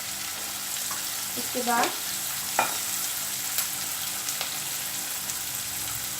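Capsicum and onion fry in a pan with a steady hissing sizzle, a few clinks of a utensil stirring, while a voice speaks briefly.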